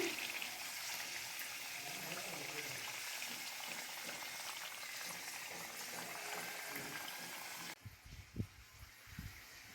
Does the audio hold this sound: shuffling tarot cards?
no